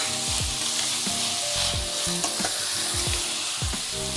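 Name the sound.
sautéing onion, tomato and green chili in a pan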